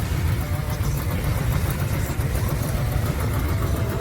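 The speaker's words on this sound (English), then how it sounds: "This is just someone driving in here, not in the show." Engine of a car arriving at an autumn classic car show, a steady low rumble running close and continuous with no talk.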